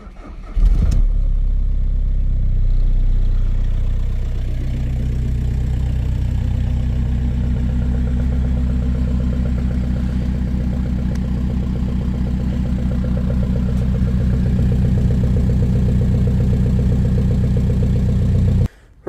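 A Skoda Fabia vRS with a 1.9 TDI diesel engine and a previously dead battery cranks and catches after a brief starter burst, then settles into a steady, loud, close diesel idle that runs unbroken until it cuts off abruptly at the end.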